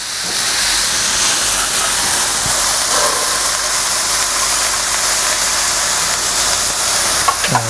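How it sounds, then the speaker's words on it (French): Poultry stock poured into a hot saucepan, giving a continuous loud hiss and sizzle with steady steam-like noise throughout. "Ensuite, je la verse dans ma casserole."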